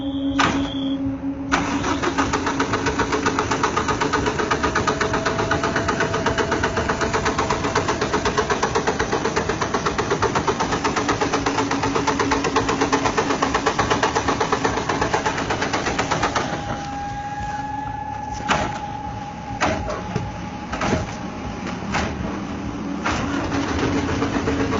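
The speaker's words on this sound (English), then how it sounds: "a ghostly entity trying to turn on the bus engine" A bus engine cranks continuously, the starter whirring and grinding loudly for a long stretch without catching, then a few sharp clunks and a thin whine follow near the end.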